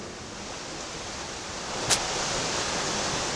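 Steady broadband wash of ocean surf on a cold coast, a continuous hiss-like roar with no distinct single breakers, plus one brief brighter splash near the middle.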